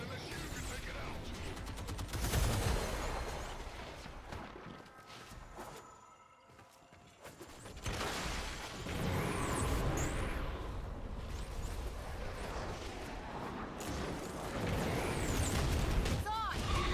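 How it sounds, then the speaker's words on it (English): Heavy cannon fire from a Macros cannon in the video game Warframe booms repeatedly amid loud, dense battle noise and game effects, with someone talking over much of the action. "Hear that, Macros cannon?"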